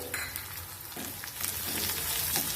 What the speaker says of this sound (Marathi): ते ह्याच्यामध्ये आपल्याला छान तेलामध्ये परतून घ्यायचे